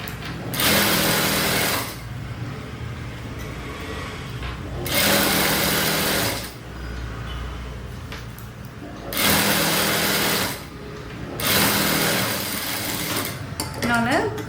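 A sewing machine stitching old saree fabric into a frock runs in bursts, a loud rapid mechanical whirring repeated four times, each run a second or two long with quieter pauses between.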